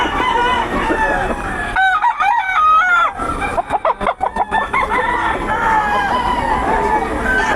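At a busy market, roosters crow loudly and repeatedly while chickens cluck all around, over a steady background of crowd babble.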